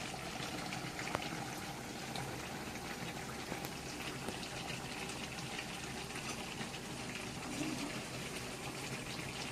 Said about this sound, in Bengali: পকোড়া ভাজার জন্য কড়াইতে তেল নিয়ে নিয়েছি, পকোড়া ভাজা হবে